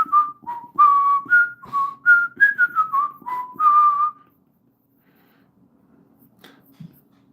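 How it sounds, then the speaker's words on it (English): A person whistles a short melodic tune, about a dozen clear close notes over four seconds, then silence with faint movement. "Can I whistle?"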